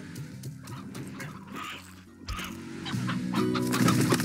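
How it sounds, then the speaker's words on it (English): Hens cluck repeatedly in the video game Slime Rancher, their rapid, uneven clucks layered together and growing busier toward the end, with no one talking. "Also gonna drop off that elder hen in there."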